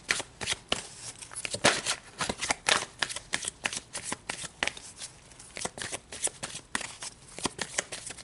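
Tarot cards are shuffled continuously by hand, a dense, close run of crisp riffling flutters and soft slaps repeating at a quick, uneven rhythm throughout.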